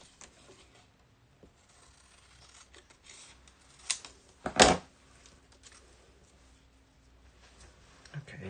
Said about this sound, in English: Let me cut this one first. Where are the large scissors?